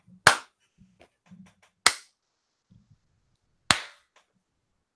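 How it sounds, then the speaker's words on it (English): Three sharp hand claps spaced a second or more apart, loud and close, with faint chatter and small knocks between them in a casual studio setting. "Give me one more."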